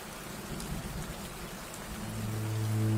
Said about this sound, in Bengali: গ্রামেরই একটা ছেলে তরুণ দুপুরে বৃষ্টিতে ভিজে ভিজে জমিতে কাজ করছিল।